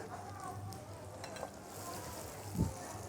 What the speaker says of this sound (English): here I have chopped garlics. So I'll stir fry this.